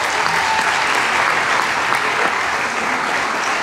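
Steady, dense applause from a large audience at a culture-and-sport event in Rome, sustained at an even level throughout.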